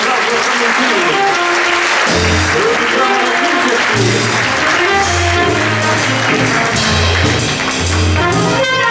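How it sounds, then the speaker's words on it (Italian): Audience applause at an award ceremony fills the clip as dense, steady clapping. Music with a rhythmic bass line plays loudly underneath throughout. "Facciamo un bel applauso a Tramontini."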